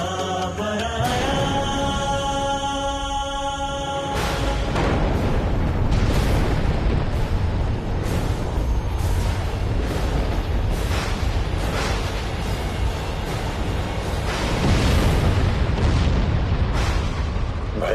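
Massive booming blasts of cataclysmic destruction roll out continuously, deep rumbling explosions with repeated sharp bursts and crashes, loud and dense throughout with no speech.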